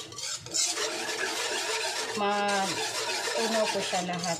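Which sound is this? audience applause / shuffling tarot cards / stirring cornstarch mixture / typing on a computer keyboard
stirring cornstarch mixture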